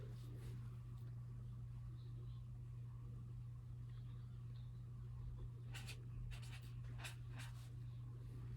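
Someone writes by hand, the pen scratching in a few short bursts of strokes over a steady background hum.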